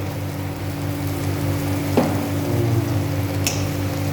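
Chopped onions frying in a pan with a spoonful of salt, a steady close sizzle with a soft stirring scrape and a small clink, no talking.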